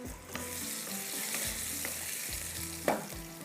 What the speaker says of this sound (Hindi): जैसे ही थोड़ा सा फ्राई हो रहा है